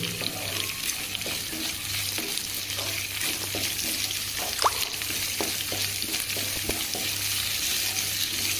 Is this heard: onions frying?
yes